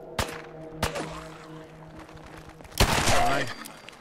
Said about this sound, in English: Kellogg's pistol's pretty freaking good.